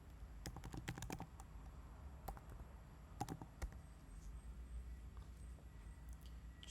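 Quick bursts of clicks on a computer keyboard, clustered keystrokes with pauses between them, faint and close over a low steady room hum.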